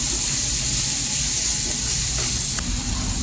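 Salt and turmeric sautéing in a pan for a mushroom corn biryani give a steady, close sizzling hiss that holds even throughout, with a low background rumble.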